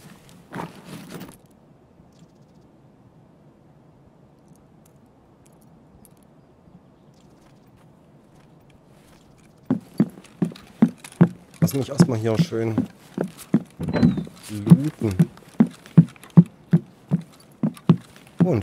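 Horse hooves clip-clop in the game Escape From Tarkov on the Woods map, starting after a quiet stretch as rapid, close, rhythmic knocks, while someone talks over them.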